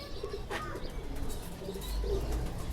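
Chocolate-colored breeder male pigeon in a loft gives soft, faint coos with a few chirps and a brief wing flutter against low background noise.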